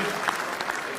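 An audience claps in a dense, steady burst of applause, loud and close, with a few voices mixed into the crowd noise.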